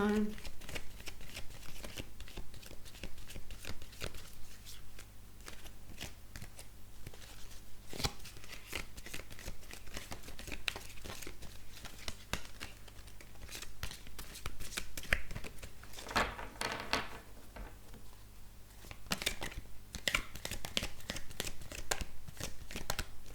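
Oracle cards being shuffled by hand in a steady riffling, papery rhythm that runs the whole time, close and moderately loud, with a person talking over it.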